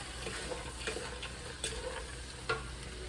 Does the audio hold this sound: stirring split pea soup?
yes